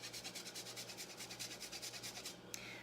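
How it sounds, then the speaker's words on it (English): Parmesan cheese scraped over a fine grater in rapid, even back-and-forth strokes, about a dozen rasping passes, soft and close, with no talking. "So I would switch to the little fine grater, and it makes like a Parmesan snow."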